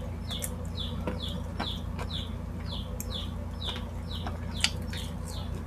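Noisy chicks chirp nearby in a steady, rapid series of high, downward-sliding peeps over a constant low hum, with a few sharp clicks mixed in.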